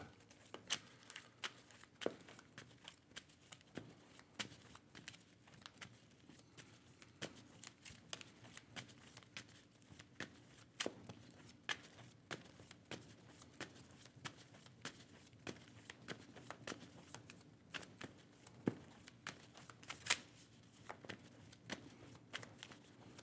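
Playing cards are shuffled during a Marvel Champions tabletop card game, a long run of quiet, crisp riffling clicks and flutters repeating irregularly, with no talking.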